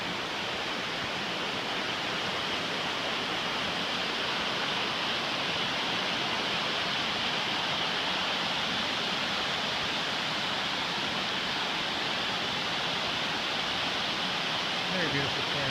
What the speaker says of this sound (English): You can hear the rapids up here.